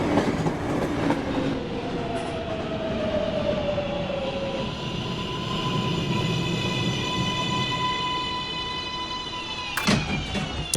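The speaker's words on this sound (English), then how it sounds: "Train approaching the station." An R142A subway train on the 1 line rumbles along the rails with a steady roar and clatter, with whining motor tones rising and falling and a sharp click near the end, and no talking.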